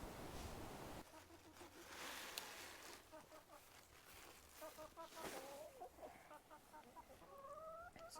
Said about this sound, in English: So here we are at the chickens